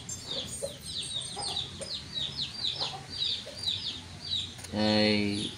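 Chickens on a farm cluck in a steady series of short calls, close by, ending in a louder drawn-out squawk, with faint background noise.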